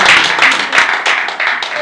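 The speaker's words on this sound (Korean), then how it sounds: "박수 한번 주시죠." An audience at a Korean lecture applauds in a short, dense burst of many hands clapping. The claps are loud and close, with no talk over them.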